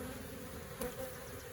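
A steady, close swarm drone of honey bees buzzing continuously as a large, calm hive is opened for inspection, with no talking.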